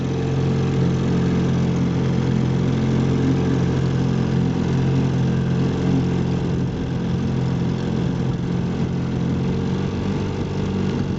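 A 1958 Johnson CD-15 5.5 hp outboard motor runs steadily throughout, a continuous loud mid-pitched engine drone with an even idle-like hum and no voices.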